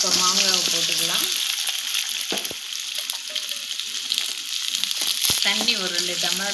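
Raw mango pieces dropped into hot oil with mustard seeds and curry leaves, a loud continuous sizzle and crackle of frying, with a voice talking at the start and end.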